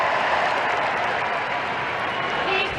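Crowd applauding steadily, a dense wash of clapping that holds even throughout, with talking over it.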